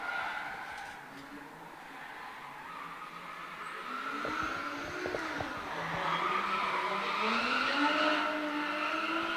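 A Nissan S15 drift car on track during a drift series qualifying round at Baypark Stadium, its engine revving and tires squealing in long skids at a moderate distance, continuous for the whole span.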